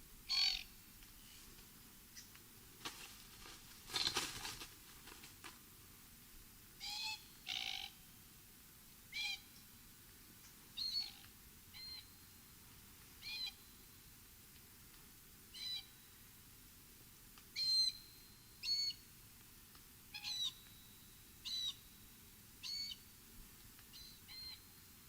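A young cockatoo gives short, sharp, repeated calls to its family group, about a dozen spaced bursts every second or two, moderately distant against a faint quiet background.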